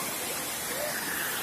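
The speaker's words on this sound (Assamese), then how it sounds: "এলিফেন্টা জলপ্ৰপাত," Elephant Falls, a waterfall in Shillong, gives a steady, even rush of falling water, fairly soft and unbroken for the whole moment, with no voices over it.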